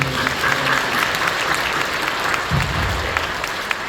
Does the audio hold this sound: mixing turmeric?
no